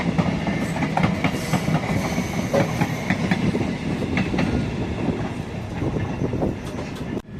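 Tambaram-Jodhpur weekly express train running steadily, a continuous loud rumble with rhythmic clickety-clack of wheels over rail joints heard from on board, with no voices.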